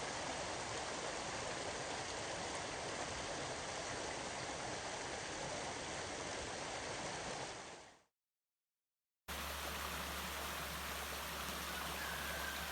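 Flooded mountain creek after Hurricane Helene in western North Carolina, a loud, steady roar of rushing water close by that cuts out briefly, then returns with a low rumbling hum beneath it.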